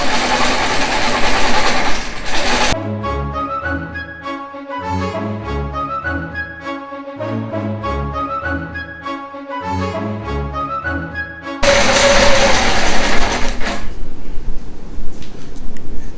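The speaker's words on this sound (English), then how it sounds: "I'm going to stitch all the way across this" A long arm quilting machine on a frame stitches a facing onto a quilt, its rhythmic mechanical pulsing repeating steadily and close, with a louder motor hum at the start and end.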